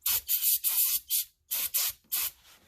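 Several short bursts of aerosol spray cleaner hiss in quick succession on the brakes of a 2014 Dodge Durango, each about a quarter second, close and fairly loud, with brief gaps between.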